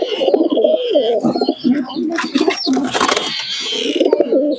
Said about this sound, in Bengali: দেখুন এই একটা নর কবুতর